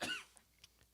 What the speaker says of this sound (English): you cough it out